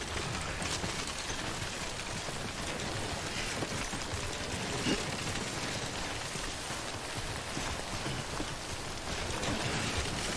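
Steady rain pours in the video game Death Stranding, a dense, even hiss of drops on surfaces that fills the whole stretch at moderate level, with no voices.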